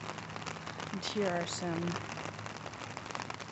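Rain patters steadily on an umbrella during an outdoor walk, a close, soft crackling hiss under someone speaking quietly.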